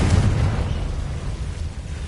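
Confringo blasting spell going off in Hogwarts Legacy, a loud, dense, rumbling explosion that roars steadily for about two seconds without a break.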